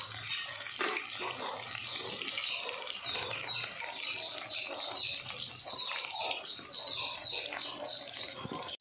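Paneer pakoda frying in hot oil, a steady, dense hiss and crackle of bubbling that runs continuously and evenly throughout with no talk.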